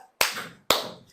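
Two sharp hand claps from a classroom group during an ice-breaker game, evenly spaced about half a second apart, close and crisp with no talking.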